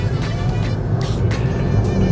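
A truck on an Indonesian road, heard from a moving Vespa scooter, gives a steady low engine rumble under continuous traffic noise, loud and close throughout, with no talk.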